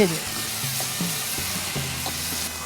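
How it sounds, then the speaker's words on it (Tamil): Onion paste sautéing over medium heat in a pan for a Tamil home-style dish, giving a steady close sizzle with scattered scraping and stirring taps throughout. "மிதமான சூட்டில் நம்ம வந்து நல்லா வதக்கிக்கணும்"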